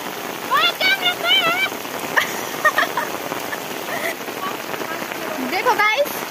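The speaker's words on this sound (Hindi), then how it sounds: "यहाँ क्या बारिश लगी है गढ़वाल में" Heavy rain pours steadily onto surfaces in the Garhwal mountains, a dense, close hiss of drops, while a dog barks intermittently and a person speaks over the downpour.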